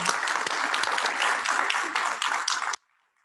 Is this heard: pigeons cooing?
no